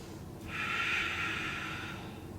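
One long, deep breath, nasal and airy, is drawn close to the mic during a yoga sun salutation. It swells and then fades over about two seconds with no talking.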